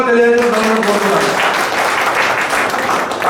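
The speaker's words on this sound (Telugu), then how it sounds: "వారికి కూడా మీరు ఉదయపూర్వక చప్పట్లతో అభినందనలు తెలియజేసిన కోరుతున్నాను." Audience clapping at a community gathering, a dense, sustained burst of applause that rises right after a brief voice at the start.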